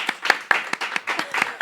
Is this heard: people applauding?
yes